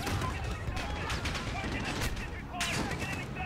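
Rapid gunfire in the Modern Warfare video game campaign, dense bursts and single sharp shots crackling continuously over a rumbling background, with a voice briefly audible.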